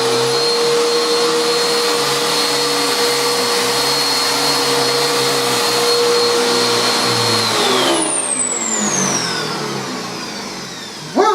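A vacuum cleaner fitted with a base plate runs at a loud, steady drone with a constant high whine, then is switched off and winds down with a falling, fading pitch.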